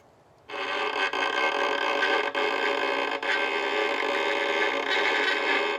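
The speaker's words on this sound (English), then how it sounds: "So that's the sound of the creaking door." A sustained, scratchy violin bow tone grinding slowly like a creaking door, steady and loud with a few brief catches, no talking.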